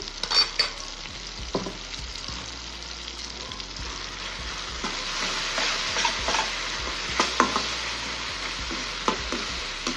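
Ginger garlic paste frying with mashed tomatoes in a pan, a constant close sizzle broken by repeated sharp scrapes and clacks of a spoon stirring through the mixture.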